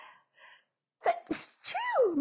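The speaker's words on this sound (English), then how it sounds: "Sorry, I'm going to sneeze" A single sharp sneeze with a quick intake before it, followed by a short spoken phrase.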